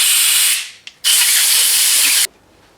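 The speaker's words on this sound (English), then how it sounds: "So again, I'm going to use my spray gun." A spray gun sprays car paint in two steady hissing bursts, close and loud: a short burst that trails off, then a longer blast of about a second that cuts off sharply.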